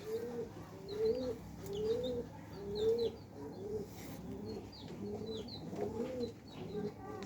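A pigeon coos close by in a repeated rolling rhythm, about eight low calls in a row, with faint chirps and background murmur.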